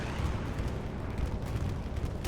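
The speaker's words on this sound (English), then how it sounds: "Here comes the counter-bombing run. It's going to go right across all these tanks." A bombing run in a war video game sounds as a dense, rumbling wall of low explosions and booms, heavy and continuous but fairly distant and muted.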